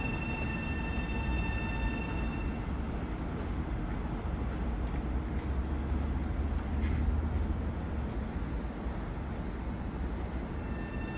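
An LIRR Main Line semi-local train, number 1056, running between Penn Station and Ronkonkoma, rumbles steadily and loudly close by with constant low-end roar and faint high whine throughout, no voices.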